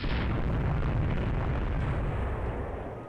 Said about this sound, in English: Oh, you hit me by the torpedo.